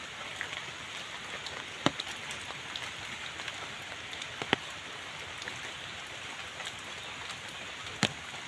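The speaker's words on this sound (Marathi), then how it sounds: "पुन्हा पाऊस आला." Steady rain falls on a village yard in Chaul, Alibag, during the rainy season. It makes a continuous broadband hiss, with a few sharper drop clicks standing out now and then.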